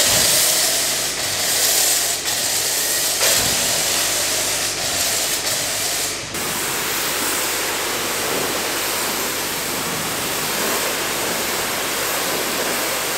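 Cold water being sprayed to apply wax, giving a loud, continuous broadband hiss that runs steadily throughout with slight dips and no voices.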